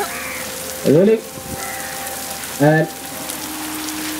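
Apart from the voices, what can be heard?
artificial rain on a film set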